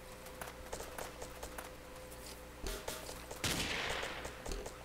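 Rapid automatic gunfire in the blocky shooter Ace of Spades, a steady stream of sharp shots with a louder burst near the end, heard alone without talk.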